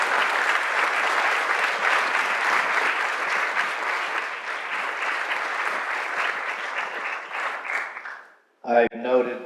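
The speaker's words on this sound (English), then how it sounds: "So a round of applause for Keith German, Veteran of the Year." Sustained applause from an audience at a Grand Army of the Republic event honoring a Navy veteran of the year, steady and loud for about eight seconds before fading out, followed by a brief moment of speech.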